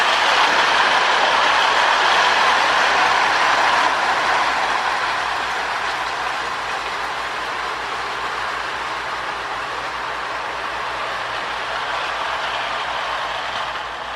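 A rebuilt Marx Commodore Vanderbilt toy train with freshly fitted motor brushes runs with a steady, close whirring drone. It is slightly louder at first, then evens out, and no one speaks.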